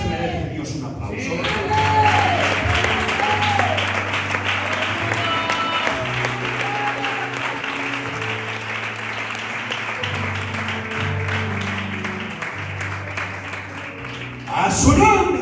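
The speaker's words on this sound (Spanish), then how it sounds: "¿No crees que se merece Dios un aplauso?" A church congregation at an evangelical service claps steadily for several seconds, a dense wash of applause with a low droning tone underneath, then fading, followed by a louder burst at the end.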